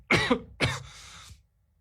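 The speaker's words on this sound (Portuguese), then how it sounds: "Tô tossindo demais." Two harsh coughs in quick succession, close and loud, then a breathy trailing exhale.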